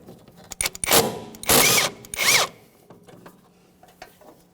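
A power tool spins out 17mm mounting bolts on the front lower control arm of a 1994-1997 Honda Accord, giving three loud whirring bursts close by, with small clicks and metal handling noises before and after.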